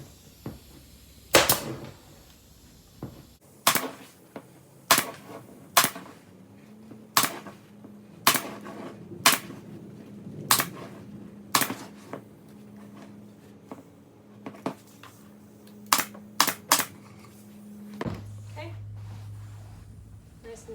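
Sharp staple-gun shots fastening fabric onto a no-sew channel tufted headboard, about a dozen close, loud snaps in an uneven rhythm with quiet handling between them.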